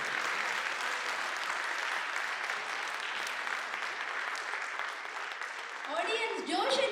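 An audience at a stage introduction claps steadily, a dense, moderately loud wash of applause that fades near the end as cheering and a voice rise over it.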